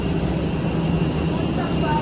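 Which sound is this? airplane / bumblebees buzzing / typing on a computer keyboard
airplane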